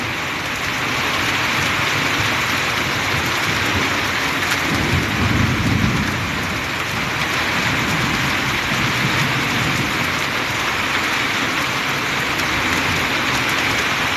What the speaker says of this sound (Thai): ฟ้าร้องเลยนะครับ